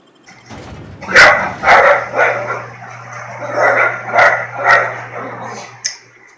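Dog barking in the video game The Outer Worlds, a run of loud close yapping barks in irregular bursts, with a faint steady hum underneath.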